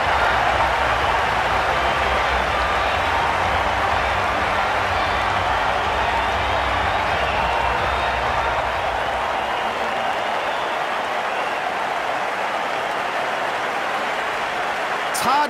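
A cricket video game crowd roars after a six in a match between Pakistan and South Africa, a sustained broad cheer that continues steadily and fills the whole stretch.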